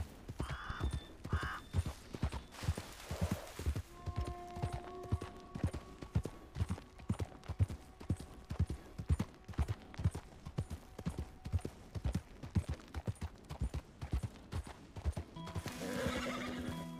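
Hooves of a rare video game horse clip-clop in a long, steady, regular beat, with whinnies breaking out at the start and again near the end.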